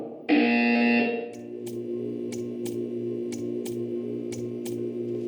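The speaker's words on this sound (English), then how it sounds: "You will hear a buzzer." A harsh, steady buzzer in the game Portal 2 blares for about a second, then a quieter electronic hum follows with a series of soft, regular ticks.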